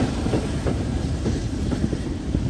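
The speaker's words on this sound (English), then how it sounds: "We are arriving at Corfe Castle in style on a heritage steam train." A heritage steam train pulls into Corfe Castle station, its loud, steady rumble and rolling wheel clatter continuing throughout with no voices.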